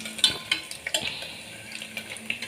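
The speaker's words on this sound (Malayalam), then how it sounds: "അമ്മയാണ് ഇപ്പം ഇളക്കിക്കൊണ്ടിരിക്കുന്നത്" Food frying in a pan and being stirred by hand: light scraping strokes and small clinks at an uneven pace over a faint, steady sizzle.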